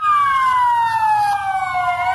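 A loud public-service vehicle siren wails steadily while driving through town streets, its pitch sliding slowly downward, close and continuous with a low road rumble underneath.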